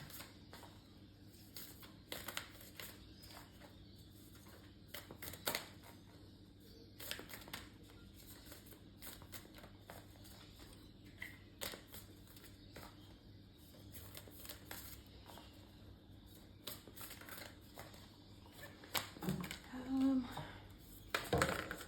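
A deck of Into the Lonely Woods tarot cards is shuffled and drawn, giving quiet, close riffling and flicking bursts at irregular intervals, with a brief sharper shuffle near the end.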